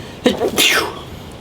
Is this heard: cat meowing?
no